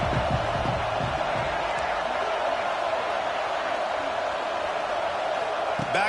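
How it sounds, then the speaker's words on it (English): Dense stadium crowd roar from a college football video game, CFB26, in a matchup against Arkansas, a steady loud wash of massed voices that holds level throughout without breaks. "This crowd ready to make its presence known."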